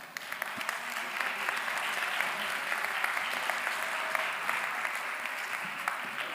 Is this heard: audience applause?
yes